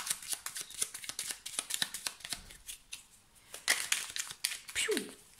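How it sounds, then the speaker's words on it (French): Tarot cards shuffled by hand, then a single card drawn, a rapid series of crisp riffling flicks and slaps close up, ending in a brief sliding swish. "je vais tirer une carte supplémentaire quand même"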